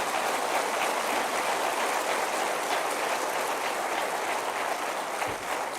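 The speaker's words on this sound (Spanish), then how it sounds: "Eso merece un aplauso del Señor." A congregation at a church service breaks into steady, dense applause, a continuous wash of clapping filling the room throughout.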